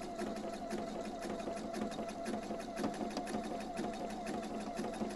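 A domestic sewing machine running a triple stretch stitch, two stitches forward and one back, hums steadily with a fast, even mechanical rhythm throughout.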